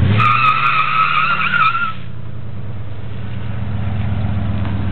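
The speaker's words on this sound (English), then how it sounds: "The smoky burnout." A Ford F150 pickup truck doing a smoky burnout gives a loud, sustained tire squeal over a roaring engine for about two seconds, then settles into a steady, rumbling engine drone with no talk.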